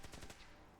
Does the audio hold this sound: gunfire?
yes